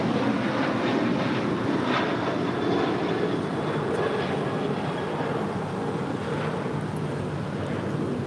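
An American Airlines Boeing 737-800 takes off from LAX with a steady, broad engine roar heard from a distance that holds level throughout without speech.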